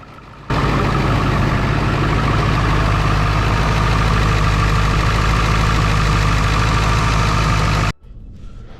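A Ford F-250 truck engine idles steadily and loudly with a deep, even rumble, then cuts off abruptly near the end, leaving faint background noise.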